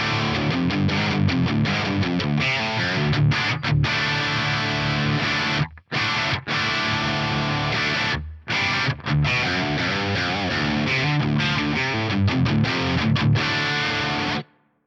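Distorted electric guitar runs through a Fractal VP4 reverb with a 250 Hz low cut, playing dense sustained chords and riffs with brief pauses, loud and alone without talk.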